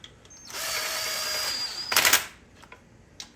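A power tool drives home the chain master link on a 1998 Yamaha Banshee, giving a loud close whirring burst of about a second and a half that ends in a sharp rattling clatter, followed by faint clicks.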